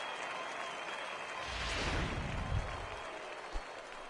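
Home crowd applause and cheering in the baseball video game MLB The Show 18, swelling midway from a background murmur into a broad, moderately loud burst that tapers off, with no talk over it.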